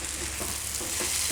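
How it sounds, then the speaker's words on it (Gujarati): Soya chunks and potato curry sizzle steadily in hot spices in a pan, a continuous close frying hiss with faint bubbling pops and no voices. "થોડીક વાર પકાવી લેવાનું આ રીતે મસાલામાં"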